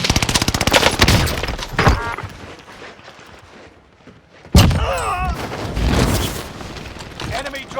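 Gunfire in a first-person shooter, dense rapid bursts and heavy thuds up close, dropping to a quieter lull before another loud volley erupts.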